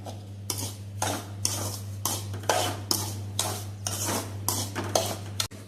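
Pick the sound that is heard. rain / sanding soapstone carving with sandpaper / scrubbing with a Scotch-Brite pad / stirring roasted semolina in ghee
stirring roasted semolina in ghee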